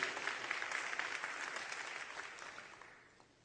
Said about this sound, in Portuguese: Então dê um aplauso ao Senhor.